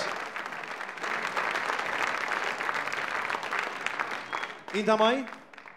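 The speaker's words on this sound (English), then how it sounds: "Give a big round of applause" A crowd applauds at the Pan Celtic International Song Contest, with sustained, moderately distant clapping that holds steady, then a short voice rises over the tail end.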